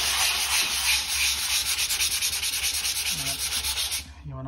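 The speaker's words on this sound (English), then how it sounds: "Got my sanding block. This is 400 grit." Sanding a builders bog patch on a door with a 400 grit sanding block in circular motions gives steady, close abrasive rubbing that holds evenly for about four seconds, then stops abruptly.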